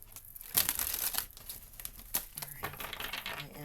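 Tarot cards shuffled by hand, a quick run of crisp riffling and flapping card sounds, close and fairly soft, with a faint voice underneath.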